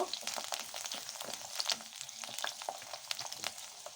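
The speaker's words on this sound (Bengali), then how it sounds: "এখানে আমি একটা বড় সাইজের করলা নিয়েছি, এটা ভেজে নিচ্ছি অল্প" Large bitter gourd frying in a pan of oil, giving a steady, close crackling sizzle with scattered sharp pops throughout and occasional stirring.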